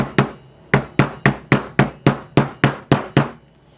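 A hammer strikes a handbag pocket with a washer fitted in it to flatten it: eleven sharp, close, loud blows in a steady rhythm, with no talking.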